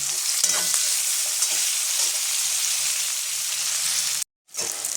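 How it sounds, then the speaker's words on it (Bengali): Onions sizzle steadily in hot ghee, frying until browned, with occasional stirring scrapes and a brief pause near the end before the frying resumes. "পেঁয়াজটা আমি লাল করে ভেজে নেব।"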